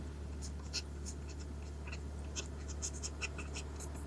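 Pen writing binary place values on paper for a number-system lesson, a faint steady scratching with small pen strokes over a constant low hum, no talk.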